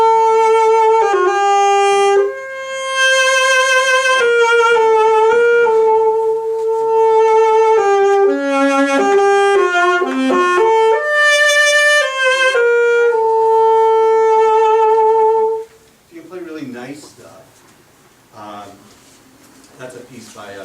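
A solo saxophone plays a flowing classical melodic line with held notes and quick runs, then breaks off into a few fainter squeaky tones near the end.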